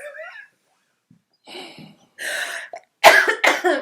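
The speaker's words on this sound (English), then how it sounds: "Just my cough." A few short coughs and throat-clearing sounds in quick bursts, close to the microphone, separated by brief silences.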